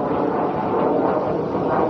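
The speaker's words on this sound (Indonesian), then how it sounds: "Ada pesawat ya." A fixed-wing airplane passes overhead above a windy southern seacoast near a long sea bridge, a steady broad drone that holds at a constant level throughout, mixed with wind and surf.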